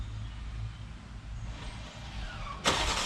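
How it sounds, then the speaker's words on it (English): A BMW X5 starts by remote start, a sudden crank and catch near the end, heard from a short distance after a few quiet seconds of outdoor background. "And the car starts right up."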